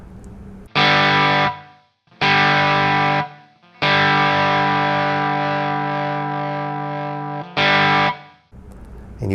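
Electric guitar played through the distortion amp preset of an Enya Sonic Go smart guitar: four loud, sustained distorted chords, each ringing out and then cut off into silence, with the longest held for several seconds.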